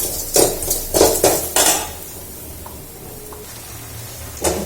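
Garlic being stirred and fried in a pan, with several clattering scrapes of a utensil against the pan in quick succession, then a soft sizzle and a final clink.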